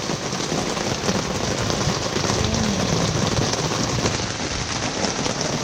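Sudden heavy rain pours down in Southeast Asia on a hot day, a dense, steady roar of drops hitting surfaces, loud and unbroken throughout with no voices.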